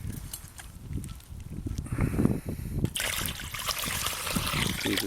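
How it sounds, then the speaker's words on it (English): Water poured from quart jars splashes and trickles onto a plastic sheet laid over a no-till corn field, a close, continuous gushing with sloshing surges, ending in a steadier broad wash. "Pour that in the plastic."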